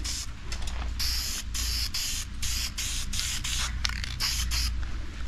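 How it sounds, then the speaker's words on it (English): A can of satin black spray paint hisses in about a dozen short, sharp bursts with brief pauses between, close and fairly loud, touching up scratches on a 1997 Jeep Wrangler TJ. "Just gonna spray it."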